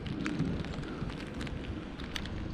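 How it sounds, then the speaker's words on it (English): Heavy rain pours steadily in a dockside setting near a submarine, a dense, continuous hiss with small crackling drops throughout and no voices. "Well, it's definitely raining"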